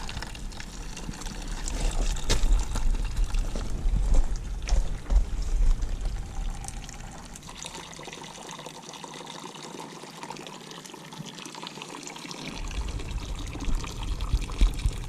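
Water draining out of a race car's cooling system, a steady pouring trickle that stays continuous throughout, with some clatter and handling noise near the start.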